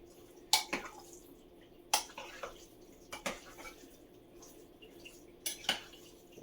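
Cinnamon being stirred into sweet potatoes in a dish for a sweet potato casserole, with several sharp utensil clinks and scrapes against the dish at an uneven pace, close up and with no voices.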